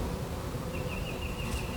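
Honeybees in an opened hive drone in a steady, dense hum, close and continuous, with a faint higher whine drifting through near the end.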